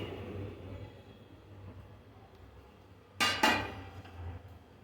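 Spoon stirring roasted kasuri methi into dal makhani in a pot, with two short scraping clatters near the end over a low steady background hum.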